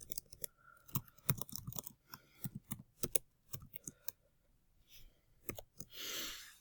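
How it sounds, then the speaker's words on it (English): Quiet computer mouse clicks followed by soft, uneven keyboard typing as a question is entered, close and faint with short pauses between keystroke runs. "So I click here, all right, and I can type in my question."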